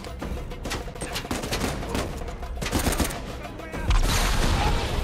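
Rapid automatic gunfire in the video game Uncharted 4, loud crackling volleys in quick bursts that swell into a heavier barrage toward the end.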